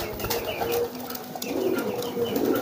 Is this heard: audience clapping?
no